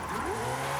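A Ferrari engine in the video game Forza Horizon 5 revs in a continuous high whine with shifting pitch, steady and fairly loud throughout the brief moment, no talking.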